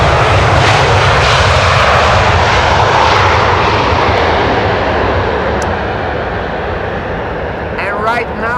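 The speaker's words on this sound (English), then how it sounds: "it was a 777 that we heard" A Boeing 777 jet departs from the center runway at Amsterdam Schiphol, its loud, steady engine roar filling the whole stretch and slowly easing as it climbs away, with a faint voice near the end.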